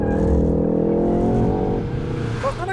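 A Ford Focus ST's engine revs hard on a race track, a loud, close, steady drone that climbs in pitch and then eases off as the car shifts or lifts near the end.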